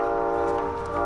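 Train rumbling past in a multiplayer shooter match, a steady loud tonal drone with layered horn-like harmonics held throughout, no talk.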